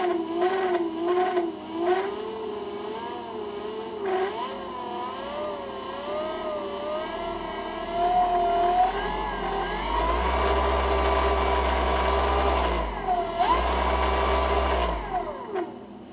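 A speed-modified servo motor whines up and down through its RPM range. The high-pitched tone wavers, then climbs, and a deeper hum swells in the second half. It sounds close and steady, with no voices.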